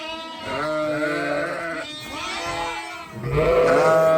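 Sheep bleat loudly nearby in several drawn-out calls, one after another, with a higher-pitched cry from a newborn lamb near the end.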